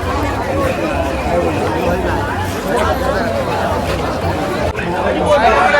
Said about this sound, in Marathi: तर मंडळी इकडे गर्दी बघा खूपच वाढली